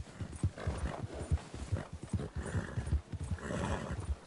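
Horse hooves galloping in Red Dead Redemption 2, a fast, steady clip-clop rhythm of hoofbeats close by, with occasional snorts or whinny-like sounds and no talk.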